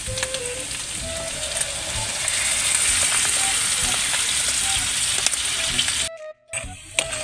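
Coco Mama coconut milk poured into chicken bicol express in a hot pan, producing a loud, steady sizzle and bubbling while it is stirred, which briefly drops away near the end before resuming.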